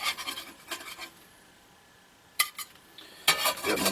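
Utensils scrape and clink against a plate as eggs are served at an off-grid homestead breakfast, a few close, sharp bursts of scraping separated by quiet pauses.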